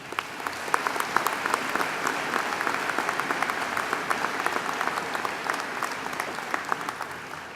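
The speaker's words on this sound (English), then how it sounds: "Let's give them all a big round of applause." An arena audience gives sustained applause, many hands clapping in a dense, steady roar that continues evenly from start to finish.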